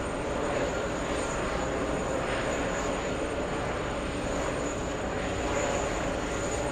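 Virgin Atlantic Airbus A330neo airliner arriving from Manchester at JFK, a steady distant jet roar with a thin high whine sustained throughout, some chatter faintly beneath.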